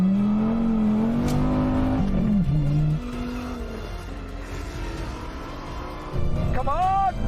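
An 850-horsepower Mustang and a V10 Viper at a drag race launch, engines roaring loudly then cutting off abruptly, followed by a quieter gap before another sharp rev rises near the end.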